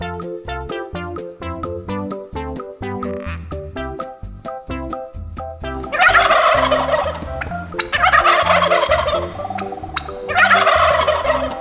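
A turkey gobbles repeatedly in rapid rattling bursts, loud and close, with several calls overlapping over about ten seconds, in an animated children's cartoon.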